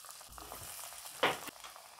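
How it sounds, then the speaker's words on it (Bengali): Lentil fritters (dal bora) deep-fry in hot oil with a soft, steady bubbling sizzle, broken by a brief louder splash or clink partway through, with no voices. "বাকি বড়াগুলো ভেজে নেব"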